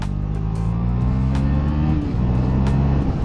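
A KTM Duke 390 single-cylinder engine with a de-baffled Akrapovic exhaust revving loudly and close, a rough throaty drone that holds steady and then dips and climbs again, with a sharp crack at the shift.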